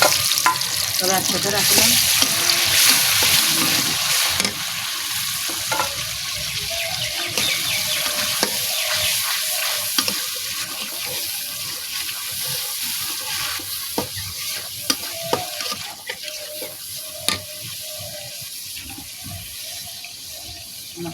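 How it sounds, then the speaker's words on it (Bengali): Spices frying in hot oil and being stirred, a constant close sizzle broken by scraping and clattering of the spoon, with splashy watery sounds and a short spoken phrase. "তেল গরম হয়ে গেছে, মশলা দিয়ে দিলাম"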